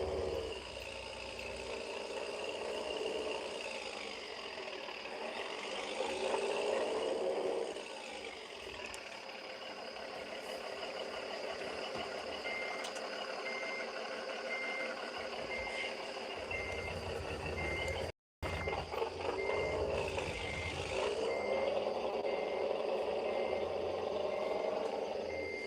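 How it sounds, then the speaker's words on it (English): Truck engine in the American Truck Simulator game drones steadily and loudly throughout, with repeated reversing beeps layered over it and a brief dropout near the end. "I know the truck's a little bit noisy though."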